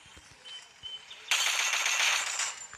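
Rapid bursts of gunfire in a Free Fire battle, a quieter crackle of shots at first, then a loud, dense volley of automatic fire that rattles on for over a second before tapering off.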